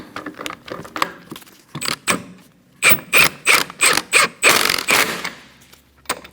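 A ratchet tightening the wheel lug nuts on a 2012-2020 Chevrolet Sonic: rapid clicking bursts at first, then a run of about seven loud, evenly spaced ratcheting pulls, close up with a few small metallic clinks.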